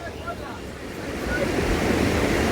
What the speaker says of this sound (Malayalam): ഭയങ്കര ഭീകര വെള്ളച്ചാട്ടം, നല്ല ഹൈറ്റിൽ നിന്നാണ് വരുന്നത്.